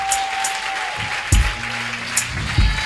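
A church congregation applauds in praise of the Lord, a short burst of clapping that rises and fades over a steady hum, with a few sharp claps standing out near the front.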